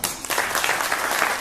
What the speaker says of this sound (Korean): 김황식 총리님을 모실 때 큰 박수로 맞아주시기 바랍니다.